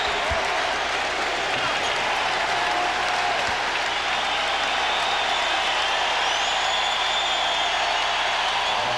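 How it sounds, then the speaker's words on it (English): Steady, roaring crowd noise filling a basketball arena during a 1998 Utah Jazz vs. Los Angeles Lakers game, with cheering and applause sustained throughout and a commentator's voice faintly beneath. "The pressure building for the Lakers as the crowd really responding."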